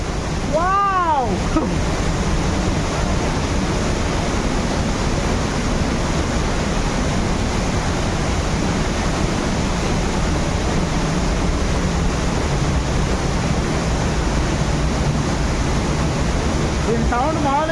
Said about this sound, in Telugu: వాటర్ ఫాల్ దాక్కొని ఉంది, చూపిస్తా